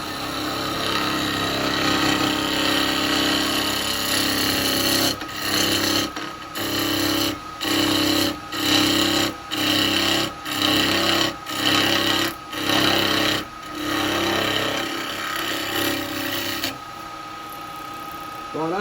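A spindle gouge cuts a yew bowl on a wood lathe, giving a steady rasping scrape broken by a series of rhythmic short pauses as the tool lifts and returns, loud and close with someone talking at times.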